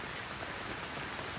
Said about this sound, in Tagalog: Hanggang ngayon, ulan na ng ulan.